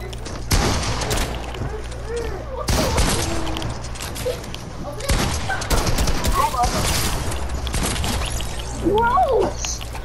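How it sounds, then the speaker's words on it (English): Rifle gunfire rings out in Fortnite, several loud bursts and volleys of shots spread across the stretch, mixed with game effects while players talk. "are you using a rifle?"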